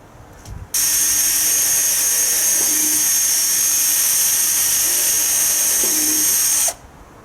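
A high-pitched electric drill with a small bit, about 1.5 mm, whines loudly and steadily for about six seconds, close up, starting and stopping abruptly.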